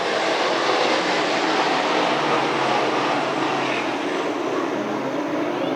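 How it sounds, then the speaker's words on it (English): A field of DIRTCAR 358 modified race cars roars away at the start at Can-Am Speedway, a dense, steady wall of engine noise holding loud and constant with no pauses or voices. "The WHITESBORO Plow Shop DIRTCAR 358 modifieds are green at Can-Am."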